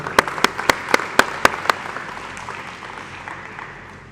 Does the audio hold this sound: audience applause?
yes